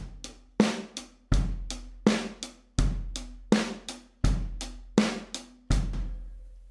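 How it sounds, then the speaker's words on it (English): A drum kit plays a steady money beat groove, kick and snare alternating with ringing cymbal and hi-hat strokes in an even repeating pattern, close and loud with no voices. "It's the money beat, as a lot of the instructors are going to be referring to it"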